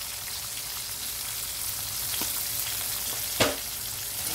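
Potatoes and peas fry over high flame in a pan, giving a continuous even sizzle with a single sharp stirring clink partway through, close and unaccompanied by voices.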